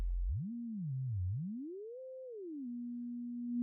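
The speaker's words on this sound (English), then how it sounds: "So let's go back to our sine wave." A pure sine tone from the Arguments synth app on iOS, a single smooth steady pitch that glides up and down before settling on a constant hum, clean and alone.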